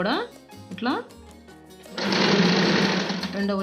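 A home sewing machine stitches the seam of a top, a steady loud whirring run of motor and needle taking up the second half after a couple of short bursts, with a voice speaking over the start.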